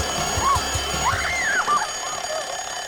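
An alarm clock goes off in a bedroom scene from the horror film A Nightmare on Elm Street, with a shrill warbling ring over a low rumble of film sound.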